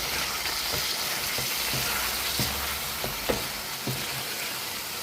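Steady sizzling of chicken curry with tomato frying in a pan, with occasional soft stirring clicks and bubbling, close and continuous.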